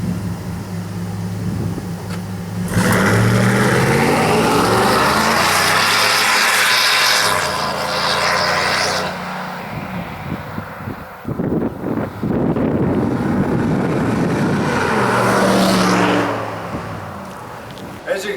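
A pickup truck fitted with an MBRP dual exhaust system drives along, its engine droning and rising as it accelerates under heavy wind rush and cabin noise for most of the stretch.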